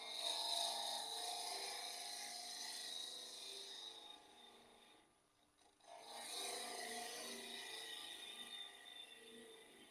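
A Little Wonder cup tool on a wood lathe cutting against the grain, a steady continuous rasping scrape that briefly drops out midway as the cut pauses, then resumes at full strength.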